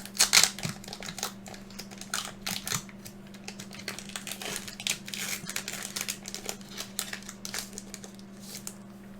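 A crinkly foil Pokémon booster pack being torn and opened up close, a dense run of sharp crackles and crinkles over about nine seconds with no talk.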